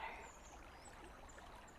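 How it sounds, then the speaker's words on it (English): A soft, steady trickle of water runs throughout, low and continuous, with faint high chirps drifting in the background. "you can hear the sound of rushing water"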